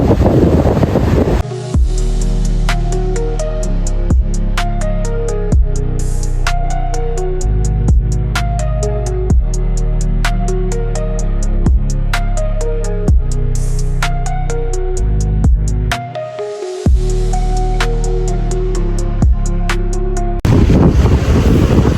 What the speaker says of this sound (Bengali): আজকে অনেক উইন্ডি, সাথে সমুদ্রের অনেক ঢেউ আছে।